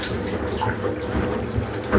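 Bath crystals crackle and fizz in running bath water that has turned pink, under a steady close rush of water from the tap, with no voices.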